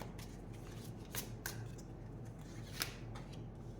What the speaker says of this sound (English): Okay, we'll take some tarot cards.